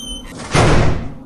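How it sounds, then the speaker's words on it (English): An old wooden door swings open with a sudden loud, deep thud and rush that fills the middle of the clip, preceded by a quieter creak or scrape, with no voices. "the old wooden door suddenly swung open,"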